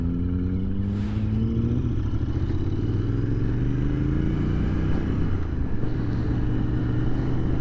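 Royal Enfield Interceptor 650 twin-cylinder motorcycle on the move, engine note rising through revs, dropping at a gear change and climbing again, with constant low rumble and wind noise, close and loud.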